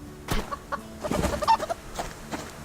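Chicken clucking in the video game Subsistence, a few short close squawks and clucks scattered across a busy outdoor game soundscape, with no talking.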